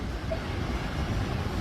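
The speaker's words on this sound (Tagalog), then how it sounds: "sobrang lakas ng alon. Kita nyo naman sa video ko ang lakas ng hampas ng tubig" Continuous surf roar from strong waves at a beach in Luna, La Union, Philippines, with gusty wind noise buffeting the microphone, a low churning wash of waves close by.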